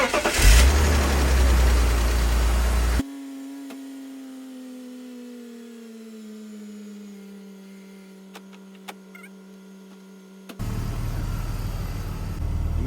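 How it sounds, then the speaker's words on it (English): A BMW E46 with a newly replaced DISA valve cranks and fires up, settling into a steady idle whose pitch drops slightly as it smooths out, then cuts off abruptly. A loud burst of other sound comes before and after the engine. "So let's start the car."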